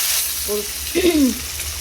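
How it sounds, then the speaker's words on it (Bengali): Onions fry in a pan for red mutton curry with a steady, close sizzle throughout, while a voice in the background talks briefly over it. "লাল লাল করে আমি ভেজে নিচ্ছি পেঁয়াজগুলো।"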